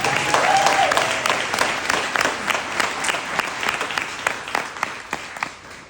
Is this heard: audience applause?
yes